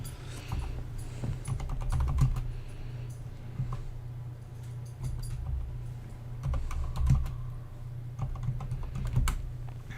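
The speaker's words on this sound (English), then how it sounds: "The intent to me putting my microphone in front of my keyboard is that we would hear less of my typing." Fingers type on a computer keyboard close to the microphone, an uneven run of clicking keystrokes with occasional louder thumps, continuous for the whole stretch with no voices.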